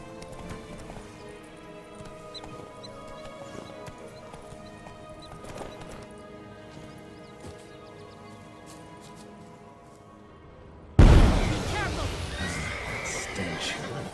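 The horse Roach in The Witcher 3: Wild Hunt, Blood and Wine, with steady hoofbeats and a whinny at moderate level, then a sudden loud burst of noise near the end.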